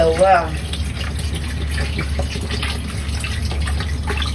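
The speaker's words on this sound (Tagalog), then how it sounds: "magdabig na tayo ng tubig" Water gushes steadily from a bottle or tap into a pot for Filipino beef nilaga soup, a continuous close pouring rush lasting the whole moment, with a brief voice at the start.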